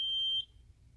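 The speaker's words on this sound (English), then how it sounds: "gets in line with the laser, the constant beep is good." A laser level receiver on a story pole, set up for laying out a backyard batting cage pole barn, gives a single short, sharp, high-pitched electronic beep, close and clear, followed by quiet.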